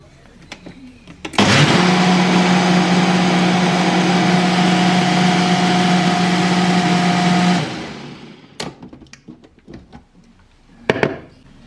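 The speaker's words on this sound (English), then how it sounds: "put my shake in, and then I'll blend it" A countertop blender whirs loudly and steadily for about six seconds, mixing a diet shake of powder and hot water, then cuts off abruptly, followed by a few clicks and knocks as the jug is handled.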